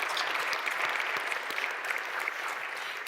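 A church congregation applauds after a song at a Sunday service: dense, steady clapping from many hands that holds at an even level for about three seconds, with no voices rising above it.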